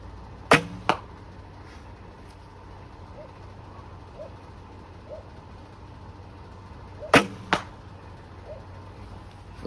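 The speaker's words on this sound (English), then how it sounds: "We'll go ahead and take our orc arrows and put these to the test." Arrows are shot from a recurve bow into a Bone Collector BC-300 bag target at about 20 yards. Two pairs of sharp, close thwacks land several seconds apart against a quiet outdoor background.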